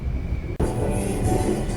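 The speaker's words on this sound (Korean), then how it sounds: "열차를 타고 여행을 가고 있습니다. 지하철 1호선 인천행인데요." Interior rumble of a Seoul subway Line 1 train bound for Incheon while riding, a loud, steady low roar that surges suddenly partway through and then continues.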